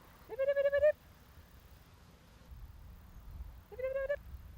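Ewes on a farm give two distinct bleats a few seconds apart, the first clearer and longer, heard fairly close over a low farmyard background hum.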